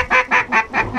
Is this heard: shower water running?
no